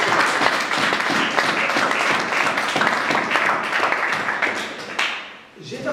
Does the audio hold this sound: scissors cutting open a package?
no